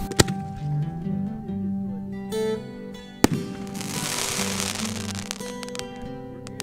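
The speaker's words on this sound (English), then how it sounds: "The boys set up a few shells for a test fire." Fireworks shells launched in a night test fire, with sharp launch thumps and cracks over a background of hissing and crackle, a louder bang near the middle and a burst of sizzling crackle after it.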